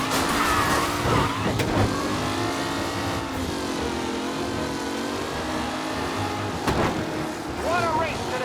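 Racing cars in the Mafia video game rev and roar close by, engine pitch rising and falling as they accelerate and pass, with a commentator's voice speaking over the noise.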